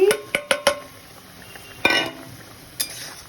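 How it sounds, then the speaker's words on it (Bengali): Several sharp metallic clinks of a utensil against a pan as fried fish is added, a quick cluster at first, then two more spaced knocks. "আর ভাজা মাছগুলোকে আগে ঢেলে দিচ্ছি"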